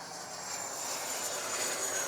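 An FMS twin 70mm Su-27 electric ducted-fan model jet flies with its air brake deployed, a faint, steady high whine and airy rush from a distance, with no voices.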